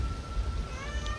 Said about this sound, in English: Yeah, that's my cat.